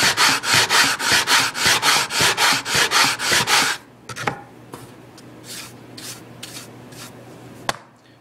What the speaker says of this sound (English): I'm really putting no pressure at all on this sanding board.